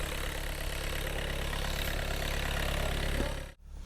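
A 2018 Volkswagen Passat B8 diesel engine idles with a steady, low rumble evenly for several seconds, then cuts off abruptly near the end.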